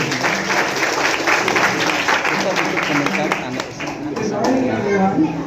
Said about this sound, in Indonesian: Tepuk tangan dulu untuk Ibu.